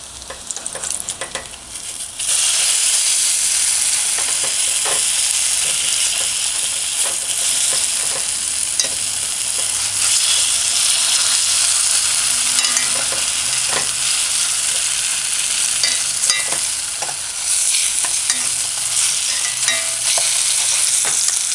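Food fries in a pan with a loud, steady sizzle that holds throughout, dotted with occasional crackles and pops.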